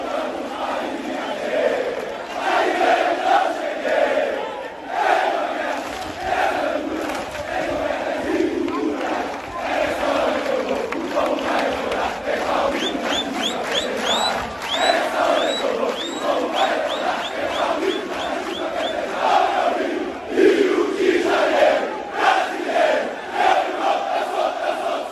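Vasco da Gama football supporters chant and roar in unison at São Januário stadium, a huge crowd singing continuously with swelling surges and scattered whistles.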